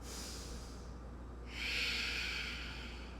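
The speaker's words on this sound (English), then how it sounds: "In through the nose, out through the nose." Slow nasal breathing during a yoga pose: a soft, breathy hiss that grows louder halfway through, close to the microphone, with no talking.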